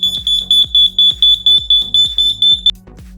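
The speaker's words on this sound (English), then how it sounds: "We can just press the test button, and it is working." A Wi-Fi smart smoke alarm, set off with its test button, sounds a rapid, piercing series of loud electronic beeps, about a dozen in quick succession, then stops abruptly.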